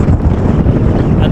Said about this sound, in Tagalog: Mahangin po dito mga tolits